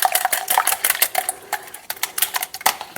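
Chocolate cake batter being mixed by hand with a mini whisk, giving quick irregular clinks and scrapes against a bowl, close and fairly loud with no voices.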